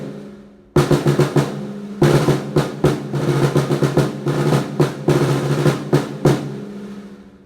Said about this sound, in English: how to fix your awful bad snare drum sound